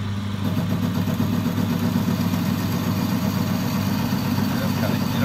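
A Boxford metal lathe parts and faces a workpiece, giving a loud, steady, low mechanical hum with a faint rhythmic flutter that holds without a break.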